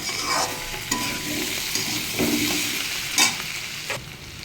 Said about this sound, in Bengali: মশলা হলুদ দিয়ে দিলাম ভালো করে কষিয়ে নেব তরকারিটা